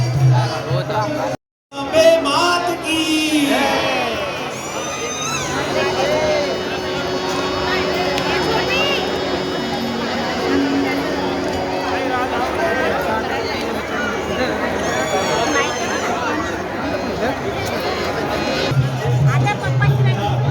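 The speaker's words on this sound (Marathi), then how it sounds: "मित्रांनो तुम्ही बघू शकता एवढी गर्दी आहे" Dense crowd hubbub at the Tembhi Naka fair in Thane: continuous overlapping chatter and babble from many people, steady and fairly loud throughout, with brief music-like tones mixed in and a short dropout near the start.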